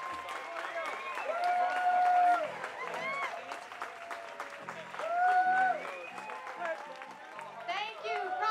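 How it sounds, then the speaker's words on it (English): Applause from an audience at a San Francisco Public Library anniversary event, swelling in two loud waves with a crowd and voices mixed in. "big round of applause"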